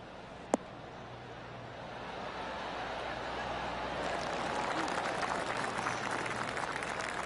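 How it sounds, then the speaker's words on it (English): Soft golf-crowd applause in the video game PGA Tour 2K23 swells gradually from quiet to a steady patter of polite clapping after a single sharp tap. "Oh, golf clap."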